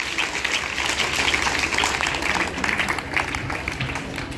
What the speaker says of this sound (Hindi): एक जोरदार ताली रिया राज के लिए